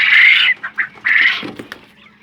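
A 47-day-old golden phoenix quail calls loudly at close range, giving a few harsh, squawking bursts with short pauses between them.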